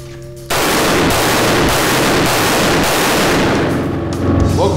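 Taurus Judge revolver firing .410 or .45 Long Colt rounds, a loud burst of rapid gunfire that starts abruptly and keeps going in sharp, repeated cracks for several seconds.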